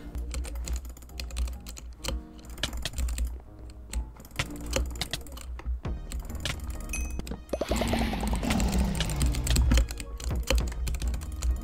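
Rapid clacky typing on a $100 gaming keyboard while playing Bedwars, a dense run of close, crisp keystrokes with no talking and continuous game sound underneath.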